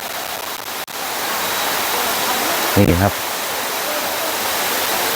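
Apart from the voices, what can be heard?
Phu Pha Sawan waterfall flowing, Phang Nga province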